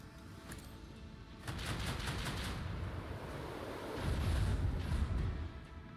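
Starship batteries fire in Rogue Trader, a rumbling volley of rapid bursts that swells in, eases, then surges into a heavier deep barrage before fading.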